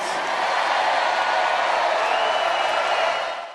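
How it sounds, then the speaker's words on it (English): A crowd at a political rally cheers in a continuous, loud roar of mixed voices that holds steady and fades only at the very end. "Listen to that cheering."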